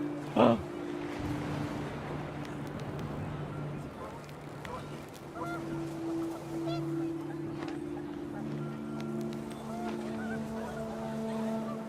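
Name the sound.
panicked geese honking, video game What Remains of Edith Finch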